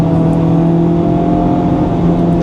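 A Honda Civic Type R FL5 engine holds a loud, steady, buzzing drone at high revs, close to the microphone and without talking.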